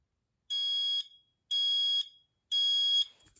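A Kidde 30CUAR-V smoke and carbon monoxide alarm sounds three loud, piercing beeps of about half a second each, evenly spaced, close and alone.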